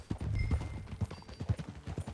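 Horse hooves clip-clopping at a steady trot in Red Dead Redemption 2, a run of evenly spaced thuds heard up close with no voices.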